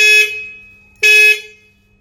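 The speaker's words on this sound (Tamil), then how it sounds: "ஸோ இதான் நம்மளோட ஸ்டாக் ஹாரன்." Stock single horn on a Bajaj Avenger motorcycle blares twice, each a loud, flat, steady electric tone held for about a quarter second, with a short gap between the two blasts.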